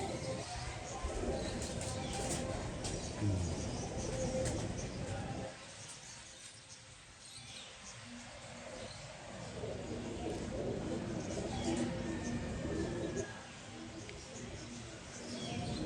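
A pigeon coos softly in quiet, low murmurs against a hushed background, with the sound dipping at moments and people talking nearby.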